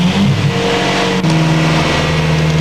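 The engine of a scissor lift runs loud and close, a steady droning hum that settles to a lower, even pitch partway through, with no talk over it.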